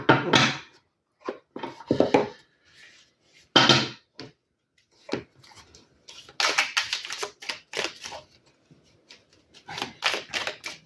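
Belline oracle cards are shuffled and drawn by hand, giving close, crisp bursts of riffling and papery slaps in irregular clusters, with short quiet gaps between handfuls.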